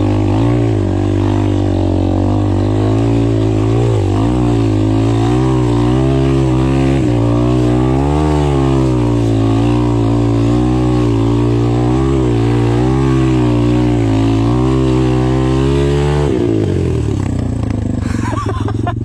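Apollo Sano DMZ 250 dirt bike engine running loud and close, revving with rising and falling pitch in first gear for about sixteen seconds before the engine note drops away abruptly.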